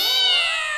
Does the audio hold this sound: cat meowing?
yes